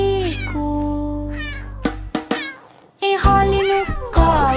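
A cat meows repeatedly in several drawn-out, tuneful cries over a steady musical backing in a Portuguese children's nursery song.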